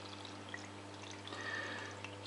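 Water drains from the tank of a Siemens dishwasher being repaired for an error code 14 flow fault: a soft, steady trickling and pouring hiss, faint and close over a low hum, with no voices.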